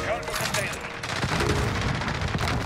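Gunfire in the Modern Warfare video game, dense overlapping bursts of shots and booms over game noise, with a player's voice partly under it.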